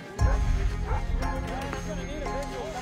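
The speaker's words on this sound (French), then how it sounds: "Ils jappent de plus en plus fort." Rescue dogs bark and yip excitedly in the snow while searching for a buried person, a rapid run of close, loud barks over a steady background with voices mixed in.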